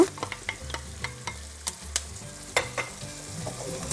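Garlic scapes stir-fry in oil in a pan, with a steady close sizzle broken by quick clicking and scraping taps from a spatula as the pieces are tossed, with no talking.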